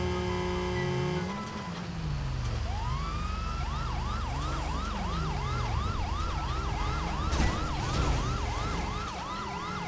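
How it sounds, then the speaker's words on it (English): Several police sirens from the GTA 5 video game wail loudly and overlap, their rising and falling tones repeating steadily over a low vehicle rumble, with no talking. "Oh, I hear more than one siren now."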